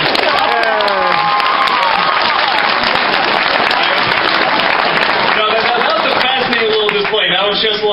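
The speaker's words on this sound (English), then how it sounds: "One more round of applause" Loud, dense crowd applause and cheering from a convention panel audience at an anime convention, a continuous roar of clapping with whoops and excited voices mixed in, sustained throughout at close range.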